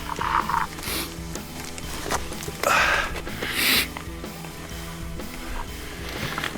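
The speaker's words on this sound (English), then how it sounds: "Sorry about all the sniffling." Wet nasal sniffling and snorting from a person with a lingering cold, heard in several short bursts close to the microphone over a low mechanical rattle and creaking in the background.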